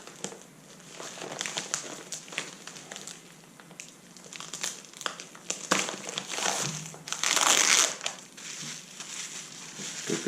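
Packaging for motorcycle drag pipes being cut open with cutters and crinkled, a run of close crackling, crumpling plastic rustles with a loud burst of crinkling near the end.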